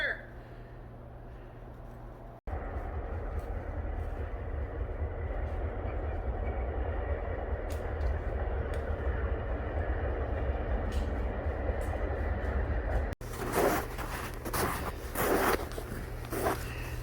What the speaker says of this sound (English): Train's still rolling through the bush there behind us